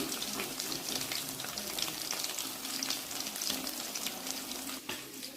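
Fish pieces frying in hot oil, coated KFC-style for a crisp finish, give a steady close crackle and hiss with faint watery bubbling running throughout.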